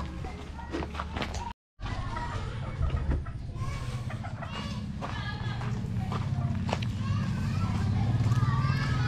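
Chickens cluck and squawk close by in a steady farmyard chorus during feeding, with a voice talking over them and a brief dropout near the start.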